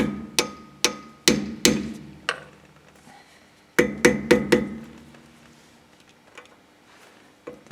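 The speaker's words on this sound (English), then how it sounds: "You need to find a spot and then hit it with a hammer." A hammer strikes the brake disc cap on a Peugeot 307 during brake work: sharp, close metallic blows in two quick bursts of about four or five each, with no talk.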